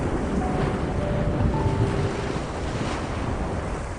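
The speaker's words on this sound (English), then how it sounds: "Overlooking the mast to the waves crashing below." Loud, continuous roar of ocean surf mixed with heavy wind buffeting, waves rushing without pause and no voices.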